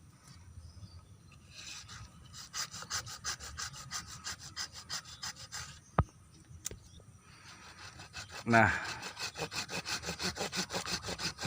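A hand saw rasps through bonsai tree wood in steady back-and-forth strokes, close and rhythmic, with a brief spoken word near the middle.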